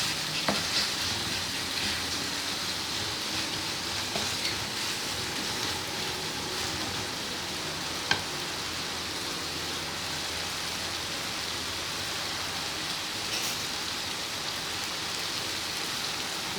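Keema with chaat masala fries in a karahi, giving a long, even, rain-like sizzle with soft occasional stirring scrapes and a couple of sharp utensil taps.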